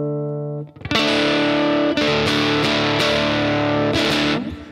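Stratocaster electric guitar played straight into an amplifier with a 25 dB mid-range boost and no pedals: loud, overdriven chords struck several times and left to ring, close and alone with no talking.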